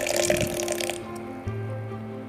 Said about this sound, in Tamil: அதுக்கு கொஞ்சமாக வாட்டர் ஆட் பண்ணிக்கிறேன்